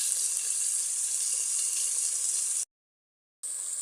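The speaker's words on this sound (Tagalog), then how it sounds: "ginigisa ko na po ang ating corned beef with kamatis, bawang, sibuyas, at luya." Corned beef sautéing in a pan with tomato, garlic, onion and ginger gives a steady close sizzle for a few seconds, then cuts out briefly before resuming.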